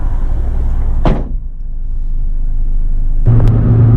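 A car door on a 1992 Toyota Sera shuts with a single solid, close thud over a low cabin rumble, followed by quiet and then a steady low hum.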